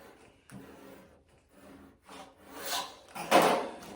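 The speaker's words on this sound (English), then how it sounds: "take one of those veins and kind of trim it in half" Leaf vein trimmed in half on a tabletop, giving soft, close scraping and rubbing bursts that grow louder near the end, with no voices.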